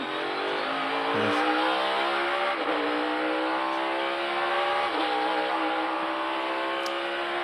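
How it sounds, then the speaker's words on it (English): NASCAR race cars at Sonoma Raceway during qualifying for the 2022 Toyota/Save Mart 350, with a loud, continuous high-pitched engine roar that shifts in pitch as the cars rev and pass. "Martin Truex trying to bump in."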